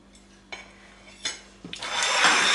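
A knife cuts a slice of plum and apple cake on a plate, giving a few sharp clinks and taps followed by a longer rising scrape, close and fairly quiet.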